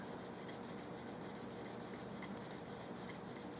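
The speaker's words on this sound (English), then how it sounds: "This finish has been drying for weeks now, and I'm buffing it down" Steady, even rubbing of a cloth or pad buffing down a cured finish on a custom Turkish walnut gun stock for a Carl Stiegele 16-gauge, a soft continuous hiss with faint regular strokes, close and quiet, no talking.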